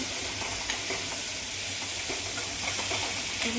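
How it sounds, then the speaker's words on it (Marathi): Moringa drumstick pods being sautéed and stirred in a hot pan: a steady, close sizzle with intermittent scraping stir strokes, no talking. "आता टाकून घेऊ शेवग्याच्या शेंगा. परतून घेऊ."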